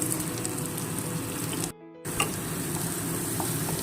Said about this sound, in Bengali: পেঁয়াজ কাঁচা লঙ্কাটা খুব ভালো করে একটু ভাজা ভাজা হয়ে যাক।